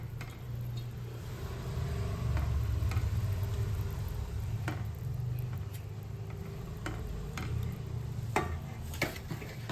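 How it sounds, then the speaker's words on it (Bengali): Fried eggplants going one by one into a yogurt gravy for doi begun, faint low bubbling with scattered soft taps and clicks of a utensil against the pan, close but quiet. "এবার ভেজে রাখা বেগুনগুলো আমি একে একে এর মধ্যে দিয়ে দেব।"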